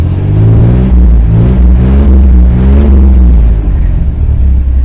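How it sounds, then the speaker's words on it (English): A carbureted car engine at a dealer auction revs loudly and close, rising and falling in several throttle surges over a deep rumbling idle. "I gave it a few pumps of the accelerator because apparently, you know, it's a carbureted engine"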